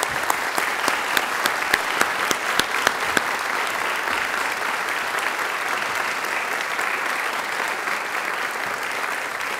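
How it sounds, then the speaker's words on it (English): An audience at a Korean Ambassador Peace Medal ceremony applauds loudly and steadily, with a few sharp individual claps at first blending into continuous crowd clapping lasting nearly ten seconds. "Round of applause, please,"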